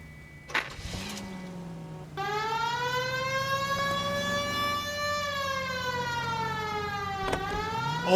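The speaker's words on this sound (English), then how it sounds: "We have a siren" Wailing police siren in the video game L.A. Noire, a loud steady electronic tone gliding slowly up and down with strong harmonics after a brief engine rumble, continuing alone over low vehicle noise.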